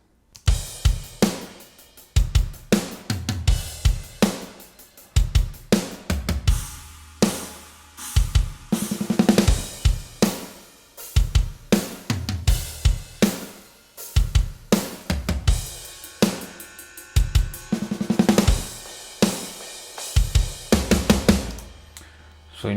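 A drum kit mixed and boosted in the MIXWAVE plugin plays a steady groove alone, with punchy kick and snare hits over crisp cymbals, loud and upfront throughout.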